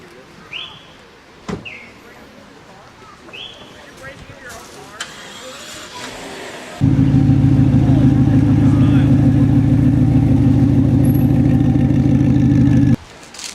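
Pagani Huayra hypercars pass by, a loud, steady engine roar rising suddenly and holding for about six seconds before cutting off, with birds chirping faintly in the background beforehand.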